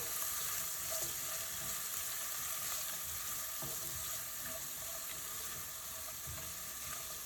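Onions frying in a pan with turmeric and salt mixed in give a steady, even sizzle that stays close and fairly quiet, with no talking throughout.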